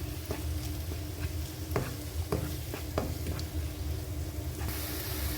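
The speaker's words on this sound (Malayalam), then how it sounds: "കളർ മാറുന്ന വരെ നല്ലോണം ഒന്ന് ഇളക്കി മുരിച്ചെടുക്കണം" Onions stirred and frying in a pan for a spicy chicken dish, with a steady close sizzle broken by several sharp scrapes and clacks of the spoon against the pan.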